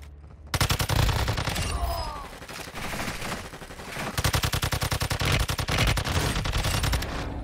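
Pistol fire in the mobile shooter Call of Duty Warzone Mobile: loud, rapid bursts of shots in quick runs, some stretches dense like a fusillade, close and harsh with no speech.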